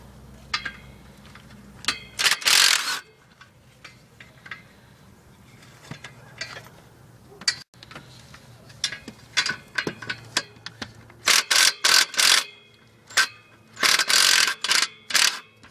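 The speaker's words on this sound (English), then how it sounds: "we're going to remove the pressure plate, and to do that we're just going to be removing these 13mm bolts all the way around" A ratchet clicks in repeated quick bursts while loosening the 13mm pressure plate bolts on a Ford Mustang during a clutch job, close and crisp, with pauses between turns.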